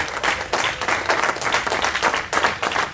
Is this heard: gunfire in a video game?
no